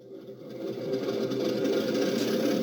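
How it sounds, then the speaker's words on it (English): A low, steady mechanical hum of a model train's diesel engine idling sound, rising in at the start and holding even throughout. "I've got my diesel engine idling now."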